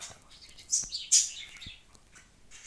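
A small pet bird chirps in short, high, bright bursts indoors, a few tweets close by with quiet gaps in between.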